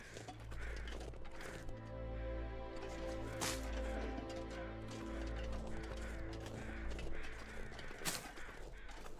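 Crows cawing in a snowy wilderness in the survival game The Long Dark, repeated harsh calls over a constant low wind-like drone, with no talking.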